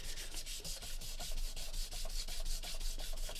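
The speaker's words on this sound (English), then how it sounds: "Just going to sand this fairly harshly." Harsh back-and-forth sanding on the casing of a JVC RC545 radio cassette player, quick rhythmic rasping strokes, close and continuous.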